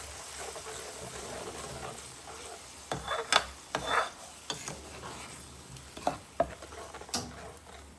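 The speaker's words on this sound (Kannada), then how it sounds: "ಈಗ ಅದೇ ಬಾಂಡಿಗೆ ಶುಂಠಿ ಬೆಳ್ಳುಳ್ಳಿ ಟೊಮೊಟೊ ರುಬ್ಕೊಂಡಿರೋ ಪ್ಯೂರಿನ ಇದಕ್ಕೆ ಹಾಕ್ಕೊಳ್ಳೋಣ. ಚೆನ್ನಾಗಿ ಫ್ರೈ ಆಗಲಿ" Ginger, garlic and tomato puree frying and being stirred in a pan, a soft steady sizzle with a few louder scraping stirs in the middle, fairly quiet with no talk.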